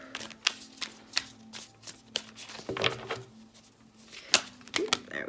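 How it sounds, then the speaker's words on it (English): A deck of tarot cards is shuffled by hand in a series of quick riffles and soft slaps, irregular and close, with a low hum in the background. "Split the deck"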